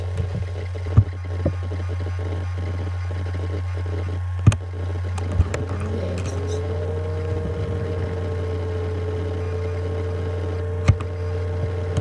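A steady low electrical hum with a few sharp clicks, then a rising whine as an Acer Aspire laptop's mechanical hard drive with a fault spins up and settles into a constant tone.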